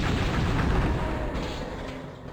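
In Hexen 2, a golem fires a revenant-like missile: a heavy, booming blast with a rumbling tail that fades over a couple of seconds, no voices.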